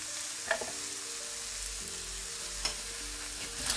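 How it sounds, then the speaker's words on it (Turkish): Onions frying in a pan for an aubergine main dish, a steady close sizzle with a few sharp clicks and a faint low hum underneath, no voices. "Soğanlar da hemen tavaya."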